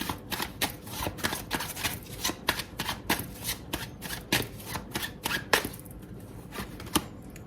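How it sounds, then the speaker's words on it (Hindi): Tarot cards riffle and flick rapidly during a shuffle before cards are drawn, a dense, close rhythm of papery slaps and flutters that thins out toward the end, with no talking. "और कुछ कार्ड्स निकाल के देखती हूँ कि एक्वेरियंस की लाइफ में 9 डेज कैसे रहेंगे"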